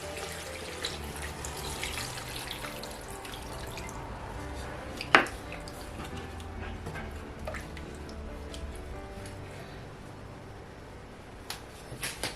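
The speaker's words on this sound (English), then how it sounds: "Now I'm going to go ahead now to add water." Water poured into a pot of simmering meat for Nigerian egusi soup, a steady faint trickle and splash running under low kitchen noise with one sharp clink midway.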